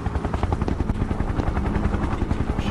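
A helicopter in a horror action video game flies close overhead, its rotor thumping in a steady fast pulse over a heavy, loud low roar, with no talk.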